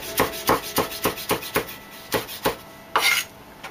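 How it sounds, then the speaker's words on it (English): A knife chops crosswise through onion slices on a cutting board, about a dozen crisp, evenly spaced thuds and scrapes close up, ending with a brief longer rasp. "I just take those slices and then I cut them across like so."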